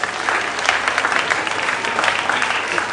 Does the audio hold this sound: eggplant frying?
no